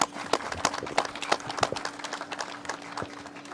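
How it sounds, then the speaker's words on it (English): An audience claps for Governor Baker at a COVID-19 update event, a modest, scattered round of applause from a smallish crowd, fairly close, with an electrical hum underneath. "And they deserve a round of applause."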